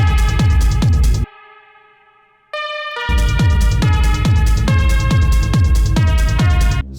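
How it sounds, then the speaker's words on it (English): A Juno 106–style techno synth built in Ableton plays a driving repeated pattern of punchy, pitched hits, breaks into a sustained held chord, then resumes the steady rhythmic pulse, loud and upfront with no voices. "a Juno 106 kind of synth sound"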